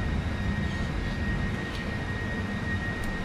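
Simulated KLM Boeing 747-400 jet engines at full takeoff power, a steady, loud, broadband roar with a faint high whine running unbroken throughout.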